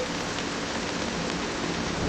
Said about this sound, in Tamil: திடீரென பலத்த மழை பெய்ய தொடங்கியது